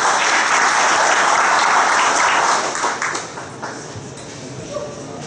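An audience at a municipal council ceremony applauds a military police honoree. The clapping is dense and loud at first, then thins out and fades over the last couple of seconds, leaving a few scattered claps.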